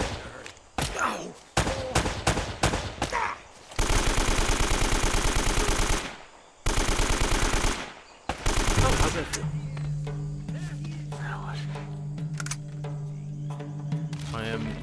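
Loud machine-gun bursts from the video game Uncharted: Drake's Fortune rattle in several rapid volleys separated by brief pauses, then give way to quieter game ambience with a player talking.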